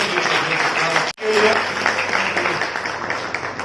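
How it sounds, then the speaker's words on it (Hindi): Audience applause welcoming people onto the stage at a film launch ceremony, a steady burst of clapping that breaks off briefly about a second in, then resumes and carries on to the end, with talk mixed in. "तो जरा तालियां बजाकर उनका स्वागत करें"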